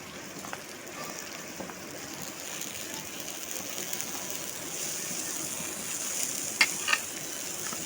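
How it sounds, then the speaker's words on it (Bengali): Steady soft sizzle of ridge gourd frying in a wok, with light stirring and a couple of sharper clacks near the end; no voices. "এবার আমি কেটে রেখেছিলাম যে চিচিঙ্গাগুলো আমি একে একে কড়াইতে দিয়ে দেবো।"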